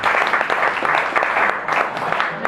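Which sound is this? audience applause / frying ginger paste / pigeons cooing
audience applause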